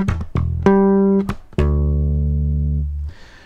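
A bass guitar line played with slap and ghost notes, sharp percussive attacks, a few quick muted hits, then two sustained ringing notes that fade out.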